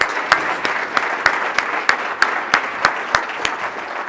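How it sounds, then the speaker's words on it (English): A small audience gives a round of applause after a talk on agile practice, with a few loud, evenly spaced claps standing out against a quieter clapping background. "round of applause"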